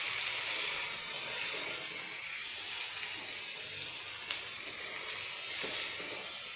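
Grated carrot hits hot tempering oil with curry leaves, giving a steady bright sizzle that holds loud and even throughout with no voices.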